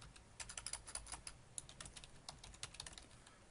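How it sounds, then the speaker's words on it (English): Quiet, close typing on a computer keyboard, a quick irregular run of light clicking keystrokes with short pauses and no talking. "I'm just typing this out"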